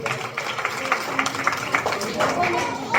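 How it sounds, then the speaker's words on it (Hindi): Audience at a Diwali gathering clapping, heard as a patter of scattered handclaps mixed with crowd chatter, moderately close. "तो जोरदार तालियां होनी चाहिए संदीप भाई महेश्वरी के लिए"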